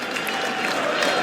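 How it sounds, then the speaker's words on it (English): Cricket crowd applauding at an England v India Test match as a bowler walks onto the field, a steady, dense wash of clapping from a large stadium audience, continuous and fairly loud throughout. "the crowd will erupt, I'm sure."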